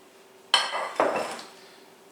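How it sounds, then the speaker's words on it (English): A spoon knocks and scrapes in a mixing bowl while flour is stirred into a stiff dough: two sharp clinks followed by a softer drawn-out scrape, then a final tap, close and alone. "We're going to stir this with a green spoon."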